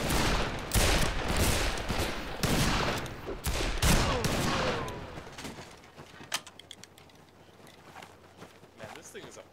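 Loud pump shotgun blasts in the Western multiplayer shooter Fistful of Frags, several heavy booming shots in the first half with other gunfire and running footsteps around them, then quieter scattered shots and movement; voices talk intermittently.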